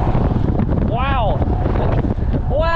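Strong wind roars over the microphone outdoors while riding, a constant loud rumble throughout, with brief whistling tones cutting through near the middle and at the end.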